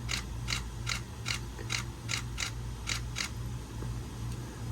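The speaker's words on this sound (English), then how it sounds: "Gonna set the shutter speed to 1/8000 and perform a test." A Nikon camera shutter set to 1/8000 fires in a quick regular burst of about ten sharp mechanical clicks over a steady low hum, close and clear with no talking.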